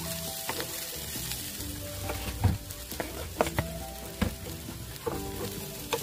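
Bitter gourd and potato pieces, with tomato added, fry loudly in a pan, a dense close sizzle broken by periodic scraping clunks of a spatula stirring them.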